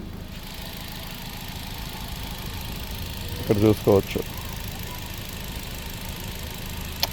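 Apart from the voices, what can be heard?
Hyundai Elite i20 petrol engine idling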